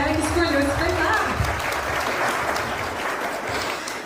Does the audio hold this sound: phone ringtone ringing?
no